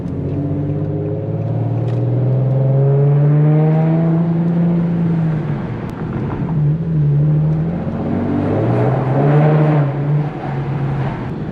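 Infiniti G37 with a loud aftermarket exhaust on a night drive, heard from inside as the engine revs climb and drop through repeated hard pulls and gear changes, a deep droning roar throughout.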